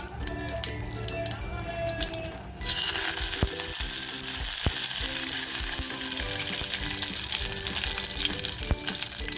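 Cumin seeds and curry leaves hit hot oil for misal, bursting into a loud, close, crackling sizzle that stays dense and continuous, with scattered pops and spatter throughout.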